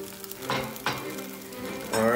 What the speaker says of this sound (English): I'm just going to saute these